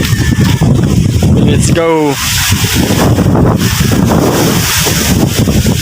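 Strong wind roars and buffets the microphone continuously and loudly, while a person briefly speaks over the gusts.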